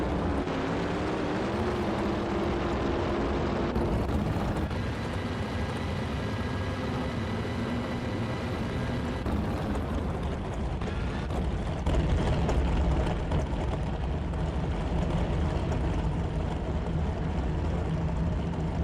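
Drag racing engines in the NHRA Championship Drag Racing video game roar continuously at full power, a thick, sustained blast that shifts in tone partway through, with no talk heard.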